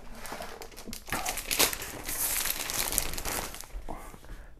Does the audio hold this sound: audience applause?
no